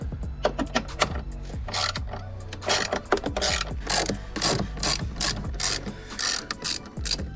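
A ratchet loosens the battery hold-down bolts on a Mustang, its close, loud clicking pawl coming in quick repeated bursts of strokes with short pauses between them.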